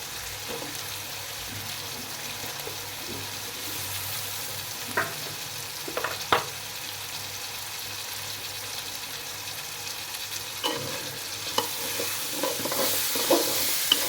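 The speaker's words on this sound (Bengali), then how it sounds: "এখন আমি মশলার ভেতরে আলু অ্যাড করে ভালো করে কষিয়ে নেব।" Potatoes stir-fried in cooked spice paste for a dried loitta fish bhuna, with a steady close sizzle and occasional scraping clicks of a spatula against the pan.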